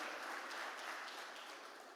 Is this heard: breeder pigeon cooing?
no